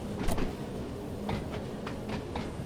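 Train running on the Isle of Wight line in Train Sim World, moving in shunt, with a steady rumble and a series of rhythmic wheel clicks passing over rail joints, moderately loud and alone.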